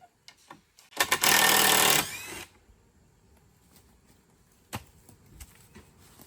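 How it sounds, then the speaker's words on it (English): A loud power drill with a star bit whirs in one sustained burst of about a second, followed by quiet handling noises and a sharp knock. "Drill and a star bit."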